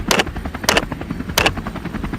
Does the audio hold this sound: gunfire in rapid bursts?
yes